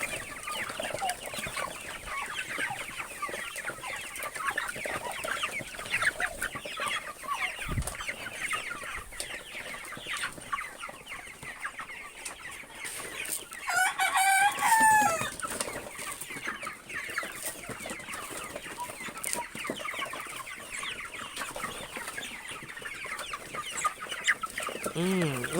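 Pet chickens cluck and chatter continuously while waiting to be fed, with busy overlapping calls, one clearer squawking burst partway through, over steady outdoor background noise.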